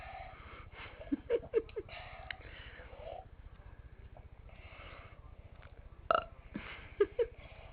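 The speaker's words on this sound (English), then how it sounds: "but he still will do a good burp again" A young boy burps several times in a quiet room, short croaky eructations scattered through the clip with breaths and small vocal noises between them, including a louder burst near the end.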